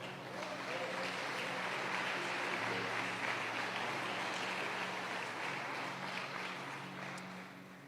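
A church congregation applauds in sustained, dense clapping that fills a large room, with voices murmuring beneath it before the applause gradually eases toward the end.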